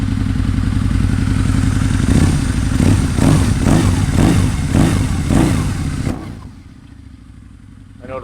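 A 2003 Harley-Davidson engine idles close by with a steady low rumble and a series of rhythmic blips, then the sound drops sharply to a much quieter idle near the end.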